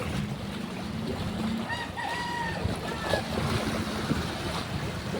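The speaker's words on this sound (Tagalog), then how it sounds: "Tapsik ng tubig." Steady wash of floodwater and surf from typhoon waves entering a house fills the clip, with a distant bird call rising faintly above the constant rushing noise.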